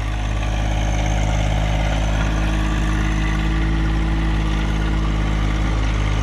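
A small garden tractor engine runs steadily at idle, a continuous low droning rumble with no breaks, fairly close and loud, alone without talk.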